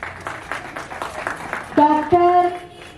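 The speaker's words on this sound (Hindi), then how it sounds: "एक बार सब पेरेंट्स के लिए ताली हो जाए" An audience at a Republic Day programme by a disability organisation applauds the parents of autistic children with a short burst of clapping, which then gives way to louder music.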